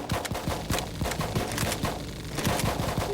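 Suppression gunfire in Full Spectrum Warrior, rapid sustained bursts of automatic shots from several weapons, dense and continuous at mid distance, no voices over it.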